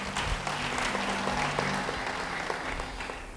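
Sustained applause from a crowd, dense steady clapping filling the whole stretch at moderate loudness, with no voices over it.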